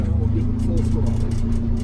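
A GM PD-4106 bus engine revs at full throttle, a steady, loud diesel drone with deep low rumble, held throughout under someone talking.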